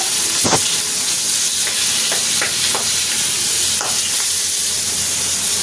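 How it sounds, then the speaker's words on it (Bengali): Fish fries in hot oil at home, a loud, dense, continuous sizzle with sharp pops of spattering oil scattered through, very close. "তেল ছিটকাচ্ছে"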